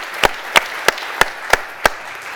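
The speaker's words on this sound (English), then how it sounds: "give another round of applause for all three of the winners from last year" Handclaps for award winners at a business conference awards session: six sharp, evenly spaced claps at a slow, steady pace, distinct against a quiet room.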